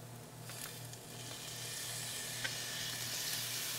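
Garlic hits a pan of translucent onions and sizzles steadily, a soft continuous crackle with a few sharp pops and a faint low hum beneath it.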